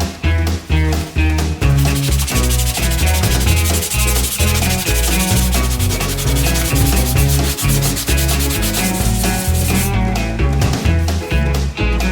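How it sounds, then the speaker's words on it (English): Loud, close sanding: rough strokes rub back and forth steadily over a painted part of a Sachs 50/3 engine from a 1962 KTM Ponny De Luxe scooter, with only brief pauses. "Time to do some sanding."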